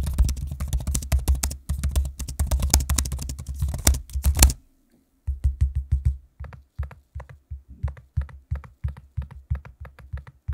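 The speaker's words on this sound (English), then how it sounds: "here's a quick sample of me using the keyboard and trackpad so you can hear what it sounds like" Rapid clattering keystrokes on a Dell XPS 13 Plus laptop keyboard, close and steady, then a short pause followed by sparser taps and clicks of keys and trackpad.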